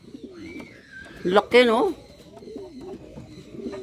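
Pigeons at a backyard coop, among them a large black bird, give soft low coos with faint chirps under loud nearby talk in a Filipino language.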